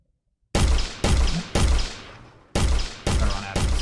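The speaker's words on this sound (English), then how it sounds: "if I go in range, he will stand up, and I believe he should shoot at me" Rapid gunshots from an AI enemy in a student-made video game, six sharp loud bursts at roughly half-second spacing after a brief silence, each with a short decaying tail, no talk.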